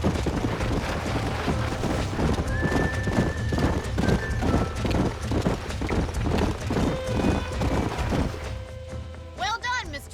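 Horses gallop with rapid, rhythmic hoofbeats in Red Dead Redemption, close and loud, and a horse whinnies partway through. Another horse neighs near the end, under a low background music bed.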